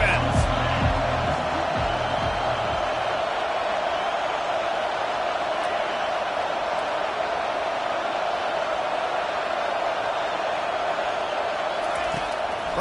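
Football stadium crowd at an LSU vs Florida college game roaring steadily behind the defense on a big third down, a dense, sustained wash of cheering with a few sharp whoops near the start.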